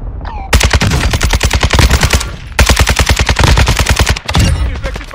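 Rapid automatic gunfire rattles out in two long, loud, close bursts with a short gap between them during a Rebirth duos match in a video game, and nobody speaks over it.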